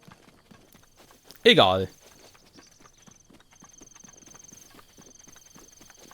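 Horse hooves clip-clop in The Legend of Zelda: Breath of the Wild, a steady run of soft rhythmic footfalls throughout, briefly interrupted by a loud whinny-like burst near the start, with a faint tone and some speech.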